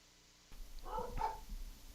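Dogs barking at home, a few sharp yaps in quick succession, moderately close and fairly loud, with no talk over them.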